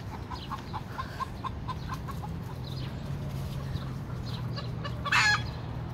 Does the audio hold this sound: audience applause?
no